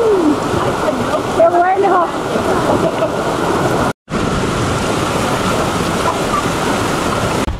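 A powerful Costa Rican waterfall pours into a natural rock pool, a dense, loud, unbroken roar of falling water with a brief cut, while a voice exclaims over it near the start.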